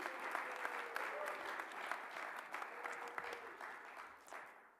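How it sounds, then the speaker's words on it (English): Sustained audience applause fills a college honors program awards ceremony, a dense, even wash of many hands clapping at a moderate distance, with no talking over it. "please give them a round of applause for putting this on this evening"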